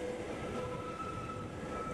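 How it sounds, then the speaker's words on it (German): A Bernina Railway train rolls near the Brusio spiral viaduct, a steady close rumble of wheels and carriages with a faint tonal whine, no voices. "Bald werden wir die Kreiskehre vor dem Bahnhof in Brusio mit dem Zug durchfahren."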